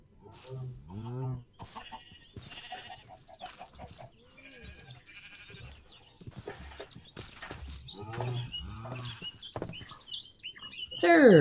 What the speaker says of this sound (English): It's another chicken.